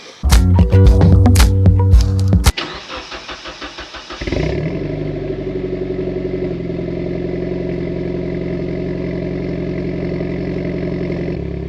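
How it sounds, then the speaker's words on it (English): A Mitsubishi Evo X engine with a persistent misfire after new spark plugs: rapid cranking and a loud catch, then a steady idle with a slightly uneven, stumbling pulse, recorded up close with no voices. "It still misfires, but audibly a tiny bit less."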